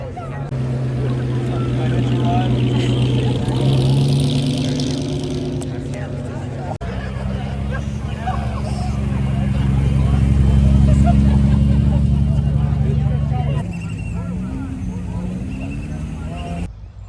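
Cars drive onto the golf-course lawn at Pebble Beach during Monterey Car Week, a steady engine drone that swells and fades as vehicles pass nearby, with a crowd's voices and chatter mixed in throughout.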